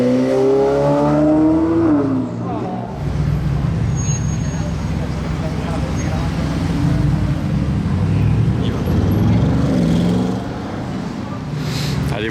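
An Audi RS7 without a front plate passes nearby on a Monaco street, its engine rising as it approaches and falling away amid traffic, with people talking over it.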